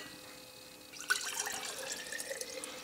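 Water poured from one container into another during a hands-on math activity, a splashing, trickling stream that starts after a quiet moment and runs for a couple of seconds with small drips.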